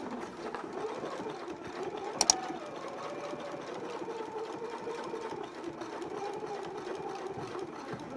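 A sewing machine stitches back pockets onto barrel leg pants, a low, steady motor hum at moderate distance throughout, broken by a brief sharp click near the middle.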